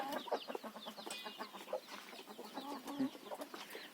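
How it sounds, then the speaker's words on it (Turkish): A flock of chickens clucks steadily nearby, a busy overlapping chatter of short calls with a few higher squawks mixed in. "Burada da var tavuklar."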